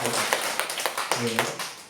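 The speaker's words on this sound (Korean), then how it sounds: "뭐 이런 박수로 환영 한번 합시다" A church congregation claps in welcome for a visiting elderly member and her grandson at a Sunday worship service. The clapping is a steady, moderately near patter of many hands, with low murmuring voices underneath.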